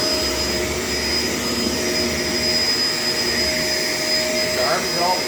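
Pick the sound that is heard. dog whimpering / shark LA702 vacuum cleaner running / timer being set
shark LA702 vacuum cleaner running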